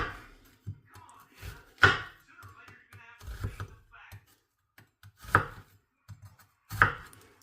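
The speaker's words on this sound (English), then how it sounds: "when cutting onions, that's the quick and easy way, is get the slices that way first." Knife slicing onions on a cutting board, a few sharp chopping knocks spaced apart amid quieter scraping and handling sounds, with someone talking softly in between.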